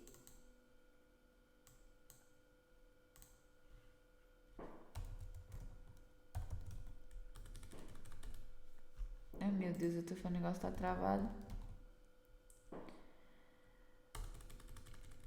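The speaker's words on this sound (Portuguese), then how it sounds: "Eu tô digitando e não tá aparecendo ali." Keys clatter on a computer keyboard in scattered short bursts of typing, faint and close, broken by pauses while someone speaks in between and over the tapping.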